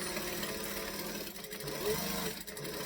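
A sewing machine basting along the very edge of a Traudy Triangle Bag piece runs in a continuous close, buzzing hum throughout, with no pauses.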